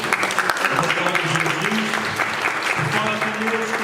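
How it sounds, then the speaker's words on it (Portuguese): A church congregation applauds the word of God during a Catholic service, with dense, steady clapping throughout. A faint sustained tone hums underneath the applause. "Vamos aplaudir a palavra de Deus."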